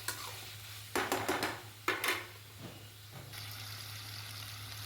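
Potatoes and drumsticks sauté with onion and tomato in a pan, with a few scraping, clattering stirs against the metal and a low sizzle running underneath and swelling toward the end; no one speaks.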